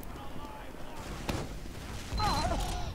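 Sticky bomb jumps in Team Fortress 2 on Badlands during a competitive match: a sharp explosive crack, then a louder burst of blasts with whooshing game noise near the end, all over busy game ambience.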